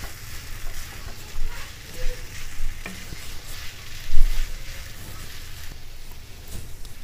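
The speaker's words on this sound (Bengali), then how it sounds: "ভালো করে মিশিয়ে নিচ্ছি।" Vermicelli pulao with green chillies and salt is stirred in a frying pan, the spatula scraping in several distinct strokes over a continuous sizzle.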